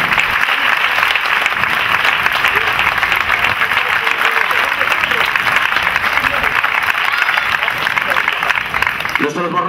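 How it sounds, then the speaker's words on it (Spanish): Sustained, dense applause from an outdoor crowd at a horse and stunt show in Serón, Spain, loud and steady throughout with no letup, ending abruptly. "Un fuerte aplauso, por favor, también a los colaboradores de aquí de Serón"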